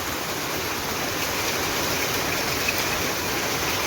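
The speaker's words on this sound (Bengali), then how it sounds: "একটুও থামে নাই এই বৃষ্টি, একটুও থামে নাই।" Heavy, continuous rain that has not let up since morning, an even dense roar of falling water with no pauses.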